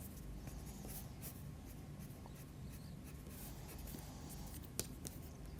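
Watercolour pencil in blue laying broad shading strokes across paper while sketching a Maasai warrior's head, a steady soft scratchy rasp throughout with one small tap near the end, close and quiet with no voices.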